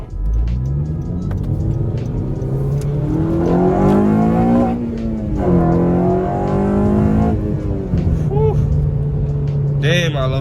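A 9th-generation Honda Civic Si manual engine revs and climbs through gears, pitch rising and dropping with each shift, loud and close, with a voice briefly over it.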